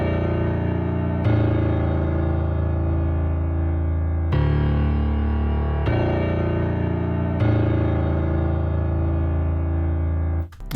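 Heavy piano melody from the Keyscape instrument for a hard trap beat, sounding as big sustained chords that restrike about every three seconds, loud and alone, cut off abruptly at the end.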